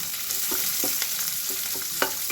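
Garlic sautéing in a pan for a tempering, cooked while preparing a honagonne soppu (Alternanthera sessilis) dish, with a steady sizzle and several short scraping stirs spaced through it, close and alone with no talk.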